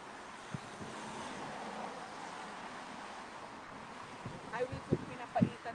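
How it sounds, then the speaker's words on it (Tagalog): Wind blows steadily outdoors as a constant broadband rush with low rumble, and a few brief knocks and bumps near the end. "because it's windy"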